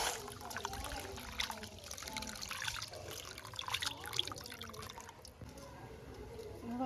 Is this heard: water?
yes